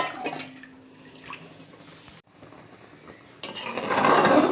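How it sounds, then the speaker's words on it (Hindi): Water is poured into a cooking pot while making Konkani methi mutki: quiet kitchen clinks first, then a sudden, loud rushing pour that grows stronger and continues to the end. "पानी सब डाल के"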